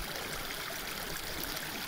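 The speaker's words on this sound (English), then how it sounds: "It's all downhill, so there's lots of water running." Water runs steadily down a dug downhill channel toward a pond, a soft continuous rushing trickle heard close by at low volume with no other sounds.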